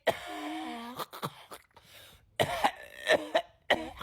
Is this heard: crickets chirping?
no